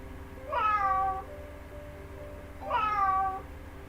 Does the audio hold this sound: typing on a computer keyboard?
no